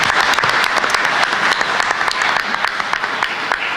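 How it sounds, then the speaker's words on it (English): Audience applause at a policy conference, a dense, steady wash of clapping from a crowd that holds at full strength throughout, with sharp individual claps poking through. "And yeah, round of applause."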